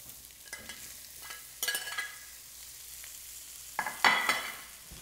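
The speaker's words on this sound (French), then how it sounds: "Je remets la viande dans la casserole." Meat is returned to a pot of caramelised onions and vegetables, giving brief sizzling bursts and stirring scrapes in a quiet kitchen, with louder crackles near the end.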